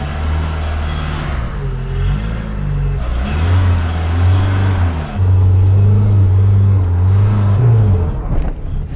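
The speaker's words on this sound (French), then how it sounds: "Démarrage à froid a du mal" An old car engine struggles through a cold start, cranking and catching unevenly, then revving in loud, wavering bursts with rough, uneven running close by.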